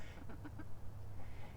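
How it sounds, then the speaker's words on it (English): A few faint rooster and chicken clucks and squawks in quick succession, then quieter scattered bird calls at a distance, with no one talking, during chicken coop cleaning. "Especially the two roosters. They just screaming at me the whole time."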